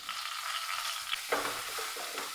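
Tomato and green chillies sautéing in hot oil with fennel seeds, a steady bright sizzle with a spoon scraping and stirring through the pan, close and continuous with no voices.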